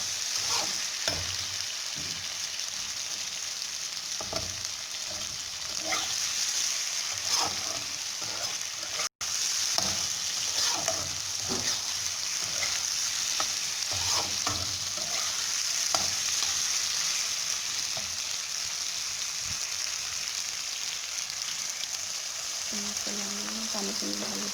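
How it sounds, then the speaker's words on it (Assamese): Pork and brinjal fry in oil as onions and tomatoes go in, giving a low, continuous sizzle broken by frequent scraping stirs of the spatula, heard up close and fairly quiet throughout. "মই ভাজি আছোঁ, এতিয়া ধুনীয়াকৈ তেল ওলাই আহিছে আৰু বেগেনা গলি আহিছে"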